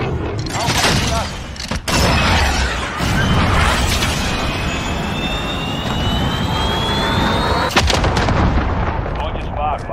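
Gunfire and heavy explosions in the Call of Duty video game, loud and continuous over about ten seconds, with sharp blasts near two and eight seconds, jet engine whine sweeping overhead and radio voices talking in the mix.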